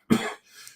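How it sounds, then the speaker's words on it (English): A single harsh cough followed by a softer, breathy second cough or gasp, close to the microphone, from a person recovering from a choking fit, with no speech. "So I've just been coughing my guts up."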